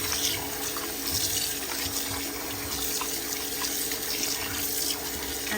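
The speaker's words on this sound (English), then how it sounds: "I'm draining all the water out. This is my last wash." Water pours and splashes steadily into a sink as it drains from washed raw chicken, a continuous rushing trickle close by with no voices.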